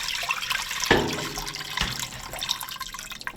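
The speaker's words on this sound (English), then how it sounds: "We're gonna take all that au jus, pour it right in there" Au jus from slow-roasted venison poured into a pan, with wet splashing and dripping liquid sounds and a couple of sharper splashes, fairly close and quiet, with no talking.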